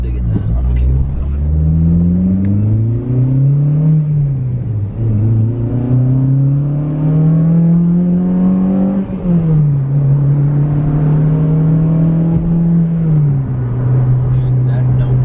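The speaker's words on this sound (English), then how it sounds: "Dude, that no muffler is fucking annoying. Kind of peppy though, it's not bad." An Acura RSX with no muffler revs loud and close, its raspy engine note climbing and dropping through several rises and falls for about fifteen seconds.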